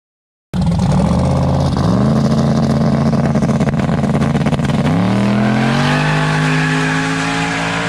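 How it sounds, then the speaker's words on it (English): Drag race car on a test pass on a fresh road: the engine bursts on loud and close, then holds a harsh high-revving roar through two upshifts as the pitch climbs steadily. "the test pass we made on a virgin road was pretty impressive."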